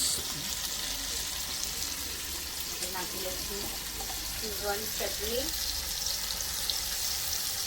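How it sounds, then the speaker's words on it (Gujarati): Mixed vegetables sautéing in a hot pan with soy sauce and chili sauce give off a steady, close sizzle and crackle throughout, with a voice talking intermittently over the frying. "આપણા વેજીટેબલ એકદમ ફર્સ્ટ ક્લાસ સોટે થઈ ગયા છે"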